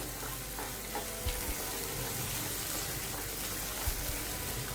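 Sweet potato sheera roasting in a pan, a continuous dense sizzle with occasional soft stirring scrapes and low bumps, steady and close throughout without speech.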